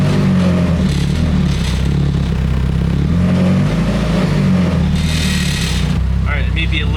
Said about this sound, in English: it may be a little bit loud because the car is running right now